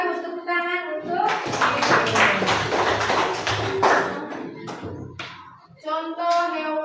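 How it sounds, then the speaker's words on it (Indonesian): Schoolchildren in an Indonesian primary classroom break into a burst of rhythmic hand clapping that lasts several seconds, with a teacher's voice speaking before and after the applause. "tepuk tangan untuk Airan."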